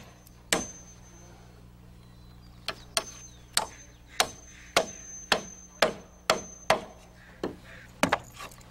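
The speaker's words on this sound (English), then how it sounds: "toenail into the plate, nail off the block, and nail the lap" Hammer blows drive nails into a wooden rafter block, toenailing it into the plate and nailing the lap with the joist. About a dozen sharp, close strikes land in an uneven rhythm with short gaps, and no one speaks.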